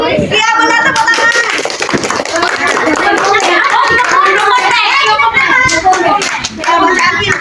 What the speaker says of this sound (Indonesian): Iya, benar tepuk tangan.